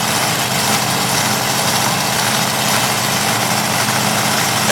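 Several monster truck engines in a Durham, Connecticut arena race rev hard at the start line, a loud, dense, continuous roar with heavy low rumble and steady vibration throughout, no voices over it.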